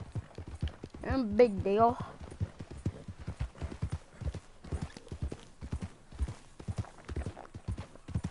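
Steady clip-clop of horse hooves trotting throughout, with a whinny near the start and brief speech over it, from the video game Red Dead Redemption 2.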